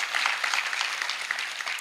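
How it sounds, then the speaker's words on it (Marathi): Audience applause at a Marathi kirtan, a dense, steady round of clapping from a crowd that fills the whole short stretch without pause. "एकदा जोरदार टाळ्या त्या भगिनींसाठी"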